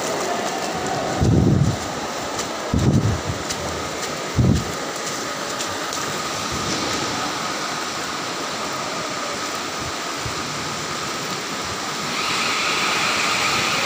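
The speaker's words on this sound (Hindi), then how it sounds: "इस टाइम सर्विस बे में और सीधा मशीन हाउस में पानी घुस चुका है।" Heavy monsoon floodwater rushes into the service bay and machine hall of a hydroelectric power house, a loud, steady roar of torrential water and rain with a few brief heavier bursts, swelling again near the end.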